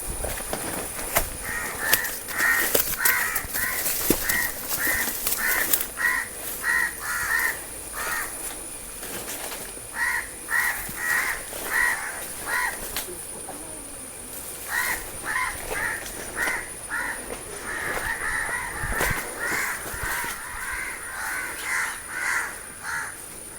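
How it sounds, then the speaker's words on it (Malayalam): A crow, apparently threatened by a cobra during a rescue, caws loudly and repeatedly in quick bursts of harsh calls, pausing briefly between series over a long stretch. "കാക്ക രാവിലെ മുതൽ ഇവിടെ പാറി നടക്കുന്നുണ്ടെന്ന് പറഞ്ഞ്"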